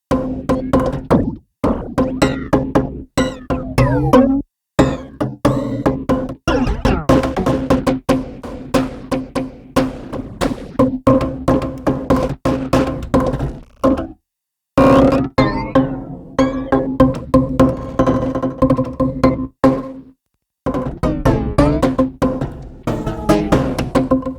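A choppy, layered electronic texture of stuttering, low, pitched-down resampled hits and fragments, cutting in and out with brief gaps throughout.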